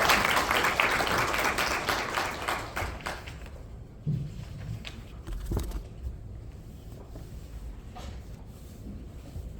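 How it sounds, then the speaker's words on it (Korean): Applause welcoming a presenter at a government water and drought policy forum, strongest at the start and quickly thinning into a few scattered claps and thuds. "박수로 맞이해 주십시오."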